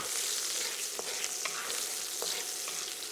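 Vegetables for sweet and sour pork stir-frying in a hot pan, a dense continuous sizzle with a few light scrapes and clicks of stirring, moderately quiet and with no voices.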